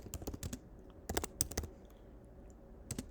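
Quick bursts of clicking keystrokes on a computer keyboard while entering commands in the vi editor, irregular clusters of taps with short pauses, close and fairly quiet.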